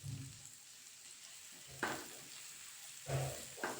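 A large onion and green chilli sautéing in a pan, a soft low sizzle with a few louder bursts as the pieces are stirred and tossed, close and quiet.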